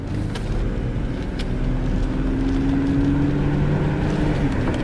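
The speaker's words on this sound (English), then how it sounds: "Transmission is shifting" A 1997 BMW 528i E39 with automatic transmission driving on the road, its engine droning steadily inside the cabin with a faint rising whine as the gearbox shifts, under constant road and wind noise.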